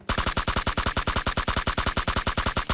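Rapid automatic gunfire in a shooter video game at a military base: a fast, even burst of roughly eight shots per second, loud and continuous throughout with no pauses or speech.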